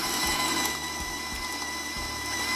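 Butter is creamed for buttercream frosting with an electric mixer, a steady whirring motor hum with light periodic knocks, fairly quiet and alone.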